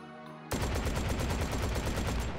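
A rapid-firing gun in the VR game Hot Dogs, Horseshoes & Hand Grenades lets loose a sustained burst of fast automatic shots after a brief quieter lead-in, loud and close.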